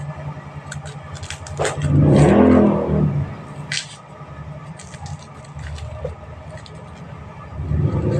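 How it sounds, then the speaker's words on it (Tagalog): A motorcycle swells and fades as it passes outside, followed by quieter engine hum and a second approaching near the end, amid faint indoor clatter. "medyo maingay po sa labas kasi may mga motor pong dumadaan dyan"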